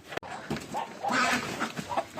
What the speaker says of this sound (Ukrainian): Так, курочки виходять, курочки виходять